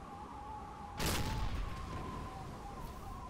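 A single heavy gunshot boom bursts out over a steady engine drone with a faint tone, fired at a ship in the submarine game Silent Hunter 3, loud and close, then a long fading rumble.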